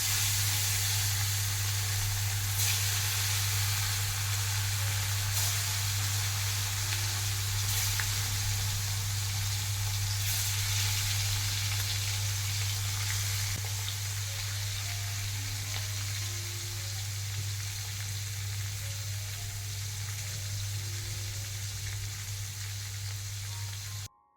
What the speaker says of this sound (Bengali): তেলটা গরম হয়ে গেছে, এবার দিয়ে দিব মাছ।